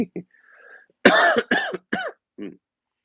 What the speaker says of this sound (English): I'll be coughing somewhat periodically through this